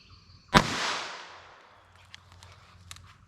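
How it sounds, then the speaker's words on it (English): A single sharp .22 Long Rifle pistol shot fired into a block of clear ballistics gel, a loud crack with a short decaying tail, followed by faint scattered clicks and shuffling. "Let's hit it with the pistol."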